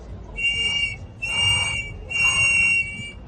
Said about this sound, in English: you would do 3 long bursts with your whistle